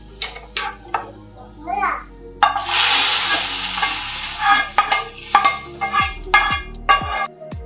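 Garlic and onion sizzle loudly in hot oil for a tempering, with a broad frying hiss swelling midway and repeated scraping stir strokes of a utensil against the pan; a voice is heard early on.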